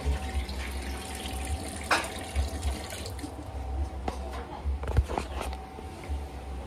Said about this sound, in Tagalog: Ano tong tubig dito, Aileen?